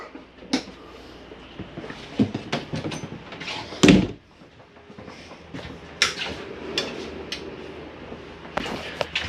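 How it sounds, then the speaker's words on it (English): Camper door on a Jayflight SLX 32BHDS travel trailer being shut and locked, with several sharp knocks and rattles, one loud slam-like thud near the middle, and softer clicks of handling around it. "Make sure you lock this door."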